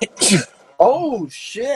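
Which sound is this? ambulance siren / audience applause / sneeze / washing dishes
sneeze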